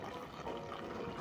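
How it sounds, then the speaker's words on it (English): Cooking cream pours into a pot of spicy green peas and potato stew, a steady soft liquid gurgle running through the whole short moment with no talk. "I'm going to add in some cooking cream."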